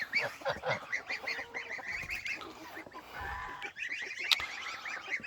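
A close group of geese honks continuously, harsh overlapping calls coming in quick bursts throughout.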